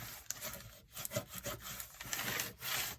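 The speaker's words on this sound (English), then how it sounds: "this bone folder is great for pressing this down" A bone folder rubs and presses paper down in quiet, short scraping strokes with irregular rhythm, close and faint.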